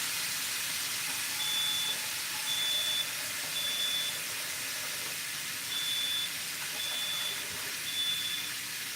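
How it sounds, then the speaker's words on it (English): A smoke detector's high, thin electronic beep repeats in evenly spaced chirps, about one per second, over a constant low hiss of background noise in a kitchen during cooking. "there goes the smoke detector"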